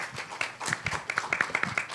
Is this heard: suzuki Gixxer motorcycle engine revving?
no